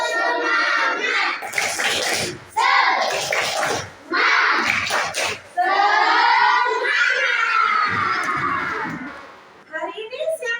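Schoolchildren in an Indonesian classroom do the tepuk semangat clapping chant: loud bursts of group clapping alternate with shouted chanting in unison, close and lively.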